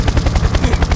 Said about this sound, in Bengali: হেলিকপ্টার আওয়াজ শোনা যাচ্ছে